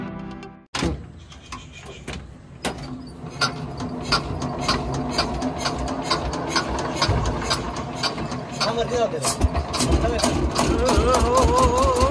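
A generator engine starts up and runs steadily during a Ganesh immersion gathering, a loud continuous mechanical drone with a faint rising hum and some clattering, with voices in the background.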